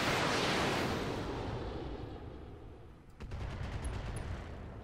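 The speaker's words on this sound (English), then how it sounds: "Gonna fire the LRMs." Long-range missiles launch in a video game as a loud roaring rush that opens at full strength and slowly fades into a low rumble, with a brief crackling burst near the end.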